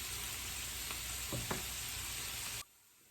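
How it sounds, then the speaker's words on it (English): Broccoli sizzles and fries steadily on a skillet over high heat, a loud continuous hiss with a couple of brief clinks, then cutting off abruptly near the end. "We're gonna let this simmer and brown nicely on each side of the broccoli."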